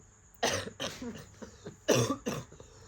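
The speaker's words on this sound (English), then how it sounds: "How can we continue a podcast when he's coughing like this?" Several close, harsh coughs in quick succession, two bursts separated by a short pause.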